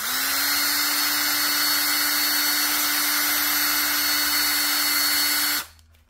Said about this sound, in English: put it into a vise and use my drill to recreate the hole